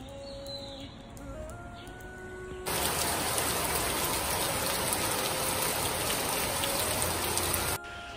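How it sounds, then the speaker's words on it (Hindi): Steady heavy rain falls across a leafy outdoor spot, starting as a softer patter with birds and then swelling abruptly into a dense, loud, continuous roar of rain that holds for several seconds before cutting back. "स्टिल बारिश हो रही है"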